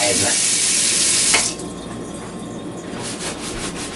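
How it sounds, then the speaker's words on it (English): Hands being washed under a running kitchen tap, a steady close hiss of water for about a second and a half before it drops to a quieter wet rubbing and trickle. "I'll give my hands another quick wash"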